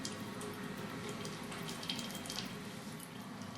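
Distilled alcohol at about 90% strength drips and trickles steadily from a home still column, a continuous close watery patter with no talk.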